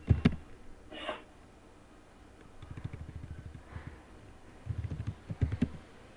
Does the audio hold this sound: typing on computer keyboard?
yes